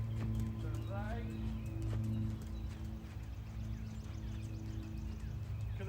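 Hooves of a ridden horse clip-clop in a steady rhythm at a brisk pace outdoors, close and continuous over a low hum, with faint birds in the background.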